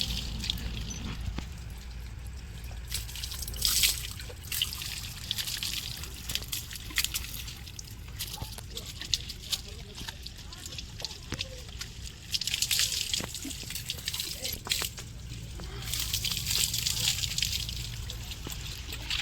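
Water splashes and trickles while a horse named Khushi is bathed at home, a steady wet wash with louder bursts of pouring and sloshing near the start and again toward the end.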